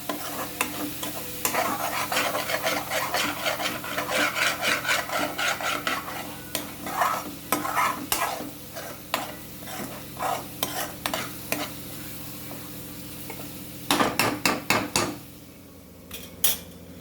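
Ground tomato paste with green chilli and asafoetida sizzles in a pan while a utensil scrapes and stirs it in quick, rhythmic strokes, close and loud, with a few sharper clacks near the end and no talk.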